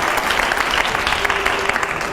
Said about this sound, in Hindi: तालियां हो जोरदार